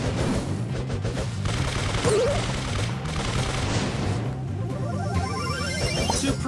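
Rapid gunfire from the brawler Colt's revolvers in Brawl Stars, quick repeated shots over bouncy game music, with a few crashes and impacts mixed in.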